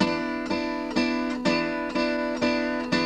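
Acoustic blues guitar strummed chords without slides, repeated in a steady rhythm of about two strums per second, each chord ringing bright and close with no talk.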